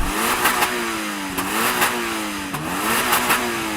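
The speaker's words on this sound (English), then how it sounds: "I'm going to rev up this GR86" Toyota GR86 four-cylinder engine revved repeatedly while parked, rising and falling pitch across two or three throttle blips, loud and close with no talk.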